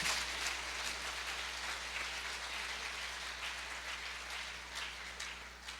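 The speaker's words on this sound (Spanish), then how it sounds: "Dale un aplauso al Señor." A church congregation claps together in sustained applause, a dense, even wash of hand claps that carries on steadily without a break.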